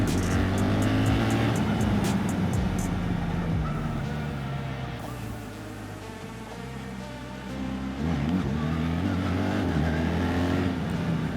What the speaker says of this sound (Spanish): ¡Qué moto para acelerar sabroso!